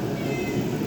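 A cat meowing in a home garage workshop, a single drawn-out, fairly loud meow close by over a steady background hum, with no talk during it.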